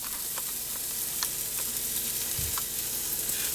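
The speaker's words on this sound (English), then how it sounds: "Now we hear the sizzle." A handful of Top Ramen noodles sizzles in a frying pan, a steady crackling hiss with small pops and scrapes, close up with no talking.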